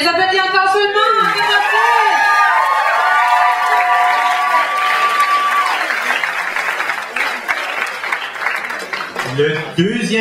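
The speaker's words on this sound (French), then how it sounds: "On les applaudit encore seulement!" Audience applause and cheering at a band competition semifinal, with whoops over sustained clapping that thins toward the end, mixed with crowd noise and some tonal sound early on.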